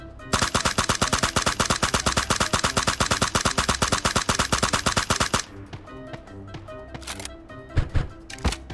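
Automatic gunfire from a first-person shooter game, fired while crouching: a rapid, even burst of close, loud shots for about five seconds, followed by sparser, irregular shots and clicks.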